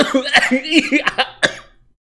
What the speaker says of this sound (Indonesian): Untung saya batuk